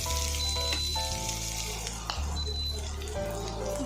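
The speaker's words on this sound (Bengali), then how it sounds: "এই কড়াইতেই আমি তেল রেখে দিয়েছি অল্প, এবারে দিয়ে দেবো রসুন কুচি" Chopped garlic hits hot oil in a wok and sizzles loudly and steadily, a dense close crackle with a low background hum throughout.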